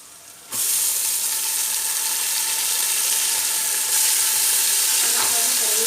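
Tomatoes fry in a pan for a garlic fish masala, a steady close sizzle that starts abruptly after a brief quiet moment and grows slightly louder near the end, with faint stirring scrapes.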